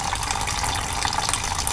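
Coolant drains from a BMW E46 radiator during a flush, a steady close-up splashing gush of liquid pouring into a container with no voices.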